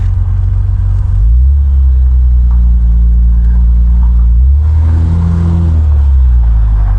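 Classic cars on a road run, an MGB and others in the group, heard from inside a following car: a loud, steady low engine drone with smooth rises in pitch as it accelerates, no talk.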